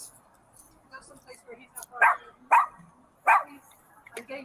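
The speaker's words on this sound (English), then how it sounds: "It's a dog. You can't stop the dog from barking." A small dog yaps in several sharp, separate barks spaced a second or so apart, loud and close, with quieter muffled voices and room noise between them.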